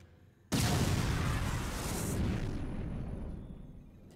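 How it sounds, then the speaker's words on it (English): A power bomb detonates in Metroid Other M, a sudden loud blast that bursts in after a brief quiet and then rumbles on broadly, slowly fading over several seconds. "drop a big old power bomb"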